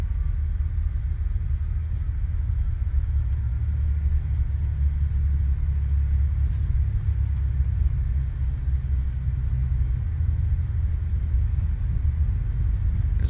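Aerosoft CRJ jet engines spool at takeoff power during the roll in Microsoft Flight Simulator, a steady heavy low rumble droning on evenly without a break.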